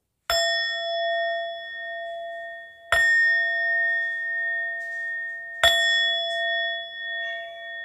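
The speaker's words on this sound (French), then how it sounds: "on va faire nos trois petits coups de gong avant de commencer la vidéo" Three evenly spaced gong strikes, each a sharp hit that blooms into a long, steady metallic ring and fades before the next, with no talking.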